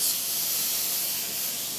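An airbrush fitted with a fan air cap sprays Auto Air candy red pigment, making a steady, close hiss of air and atomized paint that runs unbroken and fairly loud with no voices over it.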